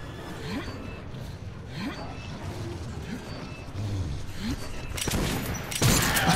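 Gunfire in the post-apocalyptic shooter Metro 2033, a shotgun among the weapons, as a steady barrage of shots and combat noise with bursts growing louder toward the end, voices shouting over it.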